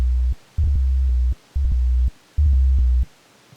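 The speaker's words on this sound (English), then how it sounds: "You get kind of a wub-wub sound like this." Growling FM bass synth made in Sytrus, a deep wub-wub tone played as three sustained notes with short gaps and a pulsing wobble, loud and close with no talking.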